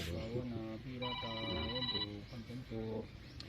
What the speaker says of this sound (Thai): สายเข้าครับ